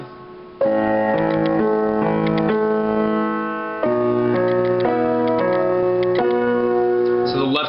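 A piano plays chords in the left hand under repeated right-hand octaves from a piece, with clear, sustained notes played close up and no speech.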